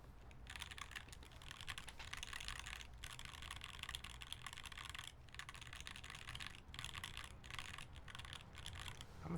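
Fast, steady keystrokes clatter on a silver Tempo mechanical keyboard with GMK Fuji keycaps, dense close clicking in bursts broken by brief pauses, with no voices.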